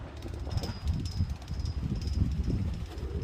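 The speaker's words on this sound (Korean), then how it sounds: "바람 또 불기 시작했어" Gusty wind blowing outdoors, buffeting in a low, uneven rumble that rises and falls for a few seconds with no voices.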